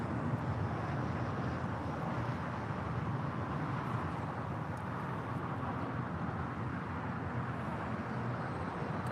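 A United Airlines Boeing 757-200 departs LAX, a steady broadband jet roar that fills the whole stretch at an even level, distant and unbroken, with no voices.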